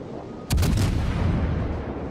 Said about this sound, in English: Rate of fire on the Fiji is pretty good too.